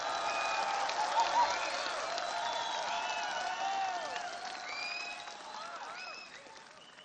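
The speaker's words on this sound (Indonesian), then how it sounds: "berikan aplaus, tepuk tangan yang semeriah-meriahnya kepada Prabowo Subianto" An audience at a Nasdem party gathering applauds and cheers for Prabowo Subianto, with a broad wash of clapping, scattered whistles and shouts on top, and a slight fade toward the end.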